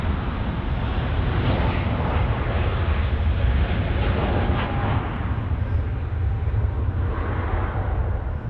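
A Boeing 777 bound for Tokyo takes off from Los Angeles International Airport, its jet engines a broad, continuous rumbling roar heard from the ground at steady loudness with no voices over it.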